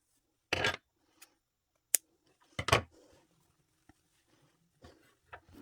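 Scissors cut yarn off a knitting machine in a few sharp, close snips separated by quiet pauses, with light handling rustles in between.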